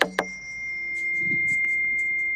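A second tuning fork: two sharp taps set off a clear sustained ringing tone that holds steady, while faint brief sounds flicker in the background.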